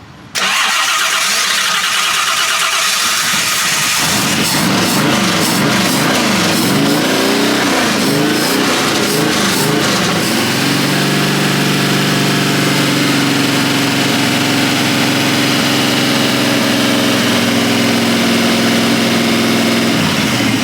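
Hot rod engine at an outdoor car event, cranked by the starter for a few seconds, catching and firing roughly, then settling into a loud, steady idle close by.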